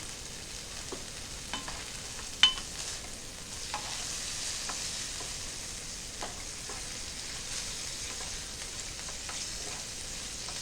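Shallots sautéing in two tablespoons of melted butter while being stirred around the pan, a soft continuous sizzle with light scraping clicks and one sharper knock, near and with no voices.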